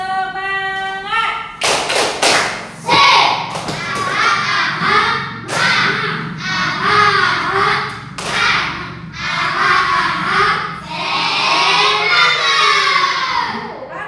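Children in a classroom perform a rhythmic tepuk semangat clapping chant, bursts of loud unison claps and thumps mixed with shouted chanting voices in a lively, patterned sequence.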